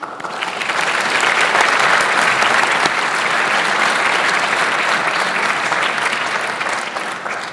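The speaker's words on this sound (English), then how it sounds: "Please join me in a round of applause." Sustained, dense applause from an audience at a community award presentation ceremony: loud, even clapping from many hands that fills the space for several seconds without a break.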